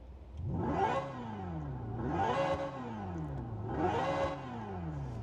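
A synthetic engine tone from a 2025 Hyundai IONIQ 5 N electric car sweeps up and down three times like revving, each rise smooth and electronic, close and fairly quiet.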